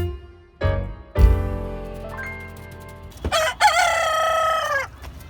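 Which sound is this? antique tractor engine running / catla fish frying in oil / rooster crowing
rooster crowing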